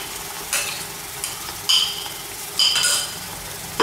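Onion frying with ginger garlic paste on a stovetop, sizzling steadily while a spoon stirs in several short scraping bursts, close and moderately loud with no talking.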